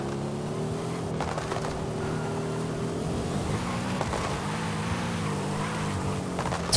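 Mercedes SL65 AMG Black Series slowing hard in Forza Horizon 5, a steady engine drone shifting pitch as the car decelerates, loud and continuous with faint tire noise and no talk.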